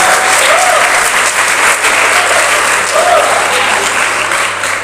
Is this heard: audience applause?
yes